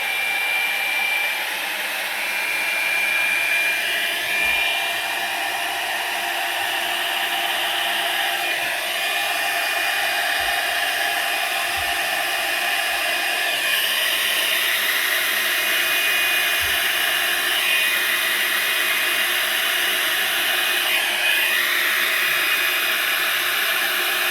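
Steady air blowing across an acrylic paint pour to push out blooms in monochromatic greens and blues, a continuous close hiss like a hair dryer lasting throughout with slight shifts in intensity.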